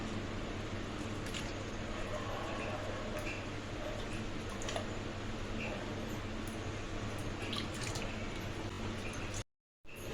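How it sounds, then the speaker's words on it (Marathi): Potato slices for wafers being rinsed by hand in water, heard as a close, continuous wet swishing with scattered small clicks and splashes, ending in a short gap. "आता ह्याला पण आपण चार पाच पाण्यात स्वच्छ धुवून घेऊया"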